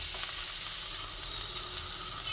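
Grated pumpkin with a little turmeric frying in an oil-filled pan, a steady close hiss and sizzle throughout with faint stirring.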